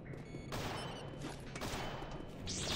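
Rapid blaster gunfire from a Star Wars Jedi Academy game, a dense, continuous fusillade of overlapping shots, loud and close, lasting the whole moment with no talk.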